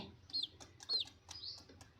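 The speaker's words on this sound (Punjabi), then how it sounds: "ਇਧਰ ਬੈਠੇ ਹੈਗੇ ਚੂਚੇ" Small chicks peep in high, thin chirps, several short calls spaced a beat apart, fairly faint against a quiet background.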